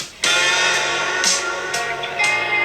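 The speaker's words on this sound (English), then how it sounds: "There's this sound that I want, and it's like that beach guitar." Bright guitar strums ring out loudly, with a few fresh strums every half second or so, sustaining between them.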